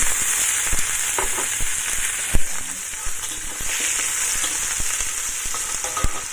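Pork ribs fry in a pan with a steady sizzle and bright hiss, broken by sharp pops and spatters, close by and with no talking.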